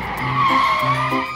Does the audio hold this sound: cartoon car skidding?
yes